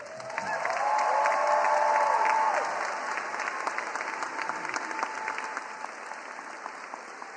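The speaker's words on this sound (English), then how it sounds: "let's say one more round of applause for her as well" Applause from a large audience at a community college commencement ceremony, a broad wash of clapping with a brief cheer early on, steady and sustained throughout and easing slightly in volume partway.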